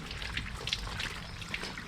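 Rinse water drains and trickles from a hand-washed heirloom quilt, a steady close dribble with small splashy drips throughout and no talking.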